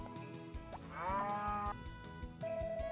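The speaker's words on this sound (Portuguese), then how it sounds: "Deixa eu ver que ovelha que é essa" Harvest Moon: Back to Nature game sheep bleating, a synthesized wavering bleat standing out clearly over looping farm game music, followed by a short chiming tone.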